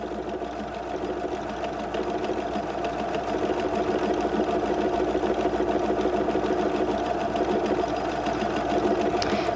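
A Husqvarna Viking #1 sewing machine stitches a large embroidery design, a loud, close, continuous rapid mechanical whirr and needle chatter with no talk.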